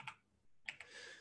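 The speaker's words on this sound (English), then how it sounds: "if I type control H3O plus" A few crisp computer keyboard keystrokes, faint and close, with a pause between an early click and a quick cluster of taps during a chemistry lab software demonstration.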